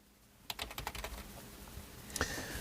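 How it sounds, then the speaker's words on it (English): Quick bursts of typing on a computer keyboard, a flurry of close clicking keystrokes followed by a single sharper tap, fairly faint and with no one talking. "Let's type that in."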